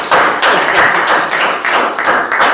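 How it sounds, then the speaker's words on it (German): A small audience at a German political talk show claps in a short burst, with a handful of distinct, sharp hand claps close by and no voices. "So elegant wurde noch nie ein Applaus herbeigebracht."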